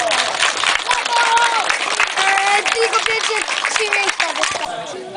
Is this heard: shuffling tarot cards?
no